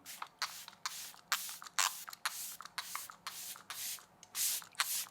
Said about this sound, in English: we can use our setting spray to melt everything down